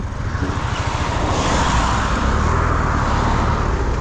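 Suzuki Address V125 S scooter ridden on a road at full throttle in an informal drag start, giving a steady, loud engine roar with wind and road noise throughout and no talking.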